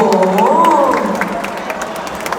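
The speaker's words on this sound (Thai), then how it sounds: "ปรบมือให้กับมวยหญิงคู่นี้ด้วยนะ" A crowd applauds and cheers at a women's Muay Thai bout at the end of round three, a loud, continuous mix of clapping and shouts with a rising vocal cheer early on.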